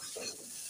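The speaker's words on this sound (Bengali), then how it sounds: "দিয়ে আর একবার ভালো করে নাড়িয়ে দেবো" A brief stir of chilli powder through chow mein in a pan: a soft scraping swish against a faint sizzle, close and quiet.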